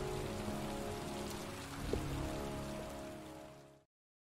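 Steady rain patters across the scene, a dense broadband hiss with a faint low musical hum beneath, stopping abruptly near the end.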